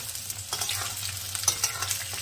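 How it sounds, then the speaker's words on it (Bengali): Chopped onions frying in a pan alongside potatoes for a Bengali jhinge aloo posto, a steady soft sizzle with brief scraping stirs, close and moderately quiet. "পেঁয়াজটাও একটু লাল লাল করে"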